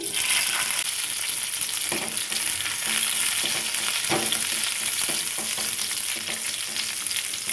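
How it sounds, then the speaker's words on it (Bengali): Raisins frying in ghee for sweet pulao, a continuous close sizzle with intermittent spoon scrapes and stirring knocks in the pan. "এবার কিশমিশটা ভেজে নিচ্ছি"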